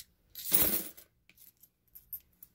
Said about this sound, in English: I'm just going to add the coins in